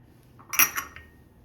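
A spoon clinks twice against a metal pot while stirring turmeric pickle ingredients with lemon juice, spice mix and salt, a short, close metallic knock in an otherwise quiet moment.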